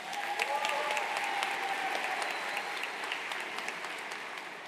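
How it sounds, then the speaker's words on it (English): A high school graduation audience applauds the graduates, a broad, even wash of many hands clapping from a distance, with faint cheers rising briefly near the start. "Please give them a round of applause."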